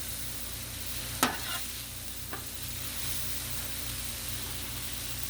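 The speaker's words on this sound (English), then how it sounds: "we'll give that a quick stir" Stir fry with cauliflower rice sizzles steadily on a hot griddle while a utensil scrapes through it a couple of times, sharp clacks standing out over the constant frying hiss.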